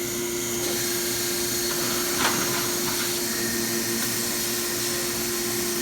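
Kolbus DAS case maker machine running on automatic through its cycle, a steady loud mechanical drone with a constant hum and a brief clack partway through, no talking.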